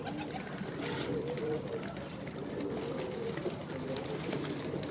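Soft, low cooing of Iraqi tumbler pigeons repeats in gentle murmurs over a faint, steady background hum, fairly quiet and close.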